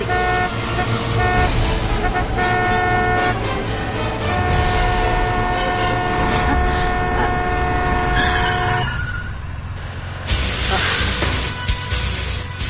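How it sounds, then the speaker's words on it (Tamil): A vehicle horn blares in long sustained honks, loud and close, then cuts off, leaving rumbling traffic and a brief burst of noise. "இவ்ளோ தூரம் ஹார்ன் அடிச்சுக்கிட்டே வரும்"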